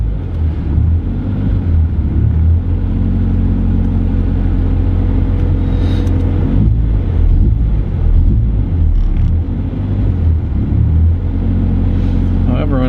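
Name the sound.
Nissan Pulsar engine idling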